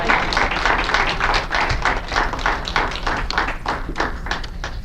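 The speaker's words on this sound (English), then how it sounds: "Let's give her a round of applause." Audience applause at a library Black History Month celebration with the Tuskegee Airmen, a steady crowd clapping that carries on for several seconds without speech.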